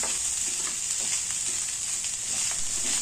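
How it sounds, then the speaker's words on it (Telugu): Tempering spices crackle in hot oil for a rice dish, a constant bright sizzle at close range with soft stirring scrapes and no talking. "ఇదిగోండి, ఇక్కడైతే అన్నం తాలింపు పెట్టేస్తున్నా"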